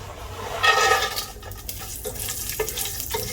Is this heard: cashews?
yes